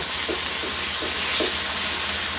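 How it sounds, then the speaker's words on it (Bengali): Ground spice paste with garlic sizzles steadily in a pan during village cooking, stirred in regular scraping strokes about every half second. "মশলাটা খুব সুন্দর করে কষা কষা হয়ে গেছে"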